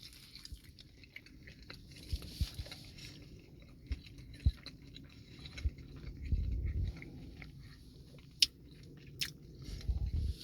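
Someone bites into a regular chicken sandwich and chews it close to the mic, with a few soft crunches and wet chewing sounds over a quiet room, with no talking.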